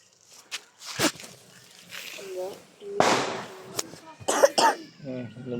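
A person with the flu coughs several times in sharp, separate bursts, close by, between snatches of casual conversation in a quiet room.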